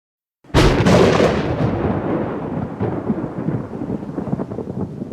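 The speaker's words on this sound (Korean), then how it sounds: "때 맞춰 빗줄기가 떨어지기 시작했고 엄청난 굉음을 울리며 번개도 쳐졌다." A sudden loud thunderclap bursts out of silence in a Korean martial-arts audiobook scene, then rolls into a long rumbling decay as rain starts pouring beneath it.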